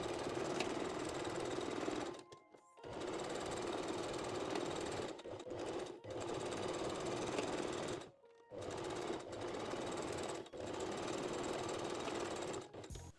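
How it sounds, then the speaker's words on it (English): A sewing machine stitches the front side seams of a bikini bottom, a fast, steady mechanical chatter heard up close in several runs of one to three seconds with short pauses between them, and no talking. "Now we can sew the front side seams."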